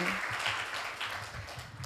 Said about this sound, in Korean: 큰 박수로 맞아주시길 바랍니다